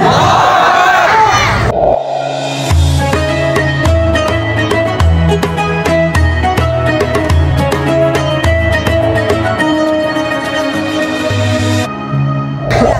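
A large crowd at an Islamic religious gathering roars a loud, unified takbir chant in response, voices surging together and sustained before dropping off abruptly.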